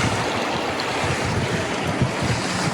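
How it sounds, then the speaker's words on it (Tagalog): Shallow but fast-flowing river at a campground in Alberta, a loud continuous rush of water with a wind-like roar, steady and close with no voices. "Hindi naman ganun kalalim yung ilog pero malakas yung current"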